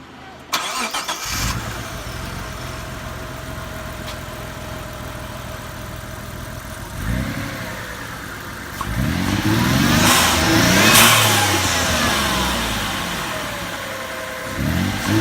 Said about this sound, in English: I'm gonna start the car up and rev it up a little bit